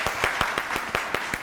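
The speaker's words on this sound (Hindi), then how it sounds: "तालियां!" Brisk applause from a TV show studio audience, a steady run of claps filling the whole moment without pause.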